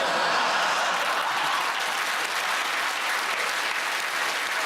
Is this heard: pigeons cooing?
no